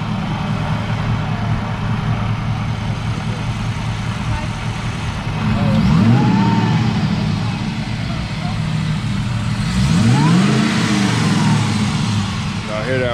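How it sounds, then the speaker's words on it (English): A car engine revving in a gifted dream car, rising twice in loud sweeping surges over a steady idle nearby, with people talking around it. "I'll rev it up one time."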